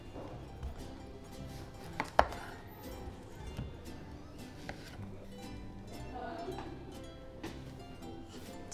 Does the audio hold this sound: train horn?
no